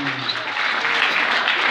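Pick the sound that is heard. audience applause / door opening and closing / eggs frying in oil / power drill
audience applause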